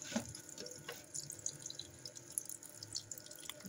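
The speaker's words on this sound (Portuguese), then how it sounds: "Tô tirando água gelada já direto daqui" Cold water runs steadily from a tap or dispenser in a home kitchen, a soft continuous splashing stream with small drips, fairly quiet and with no talking.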